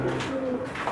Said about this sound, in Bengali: এই দুইটা আমার লফটের রিজেক্ট কবুতর